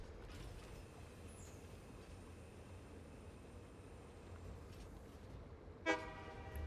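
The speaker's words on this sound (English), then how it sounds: "because it beeps when it leaves the station" A train in the Satisfactory video game sounds a short electronic horn beep as it pulls away from the station. The beep comes once near the end over a low, steady mechanical rumble of rolling rail cars.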